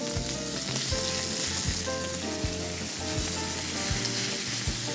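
Beef steak sears in a hot cast iron pan with oil, pepper and sea salt, a loud steady sizzle close up with occasional scraping and stirring knocks, no talk.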